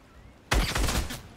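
A SCAR rifle in Fortnite fires a rapid close burst, loud and sharp, lasting about a second after a brief quiet moment.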